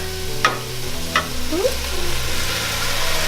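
Chicken thighs and their juices go into a pot of turkey chili and sizzle steadily close up, with a couple of sharp scrapes as they are stirred in.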